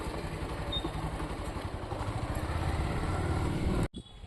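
A motorbike ridden along a road, its engine a close, steady thrum with a faint rhythmic clatter that runs unbroken before cutting off abruptly near the end.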